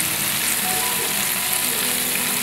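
Onions frying in oil in a pan while being stirred for a potol bhaji, a steady close sizzle with faint scraping movements throughout and no talking.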